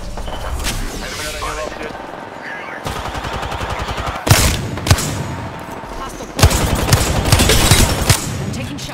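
Rapid automatic gunfire from an Apex Legends battle, loud bursts with sharp individual shots standing out, mixed with game effects and a voice talking over parts of the exchange.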